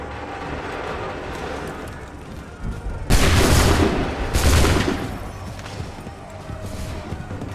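A musket volley in Assassin's Creed III, a heavy booming burst of massed gunfire with a second rolling blast close behind it, loud and dense over a rumbling battle background.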